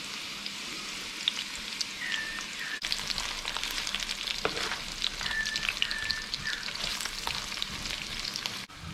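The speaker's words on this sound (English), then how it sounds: "that onion's been sauteing away for about 5 minutes" Onion sautéing in a pan for a spicy Rajasthani red mutton curry, a steady close sizzle and crackle running throughout with occasional stirring scrapes and no talking.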